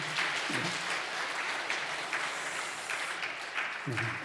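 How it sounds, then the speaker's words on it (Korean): A church congregation applauds the choir during a worship service, a steady wash of clapping throughout, with a brief voice rising through it near the start and again at the end. "다시 한번 박수해 주시겠습니다"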